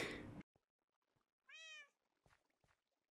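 A cat in the game Minecraft lets out a single clear, close meow, preceded by a brief louder noise and followed by a few faint soft clicks in quiet.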